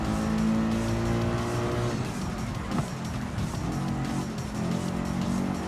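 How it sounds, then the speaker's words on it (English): A rear-engined Porsche race car in Gran Turismo 7 roars at a sustained, busy pitch with occasional tire squeal, loud and continuous as it battles through a race. "Try and listen for the engine, but it's in the back of the Porsche"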